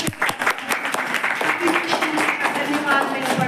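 Congregation clapping together during a church service, a dense steady run of handclaps with a voice heard over it.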